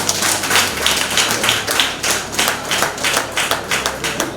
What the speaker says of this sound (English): I want us to give them a round of applause.